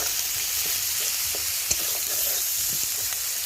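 Chole spices sizzle steadily in hot oil while being stirred, with soft scraping strokes and one sharp clack of the spoon against the pan, close and continuous throughout.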